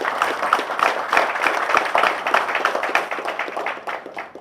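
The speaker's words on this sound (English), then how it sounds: "I think His Excellency deserves a better round of applause for this." A round of applause from a small crowd at a traditional rulers council meeting in Port Harcourt, Nigeria, steady clapping that gradually thins out toward the end.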